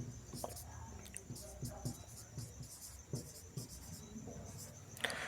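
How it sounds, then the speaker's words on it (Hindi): A hand writes a number on a board during a maths lesson, with a series of close, short scratchy strokes in an uneven rhythm over a faint background hum. "जैसे एक नंबर लिखता हूँ मैं"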